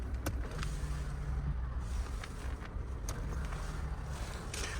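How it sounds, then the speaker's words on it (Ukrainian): Electric side mirrors on a Seat Altea XL fold automatically, a steady motor whir with light clicks running continuously at close range, with no one talking. "І автоматичне складання дзеркал."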